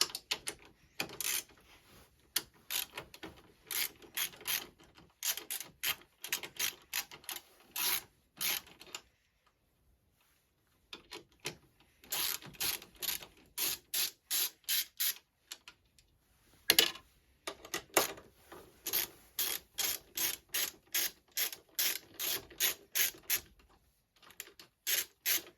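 A ratchet with a 10 mm socket working on a Yamaha Fazer 600 motorcycle, giving bursts of quick, close clicking strokes separated by short pauses and one longer silent gap.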